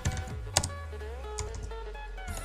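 A computer keyboard is typed on in a quick, uneven run of soft, close key taps, with a steady hum beneath and no voices.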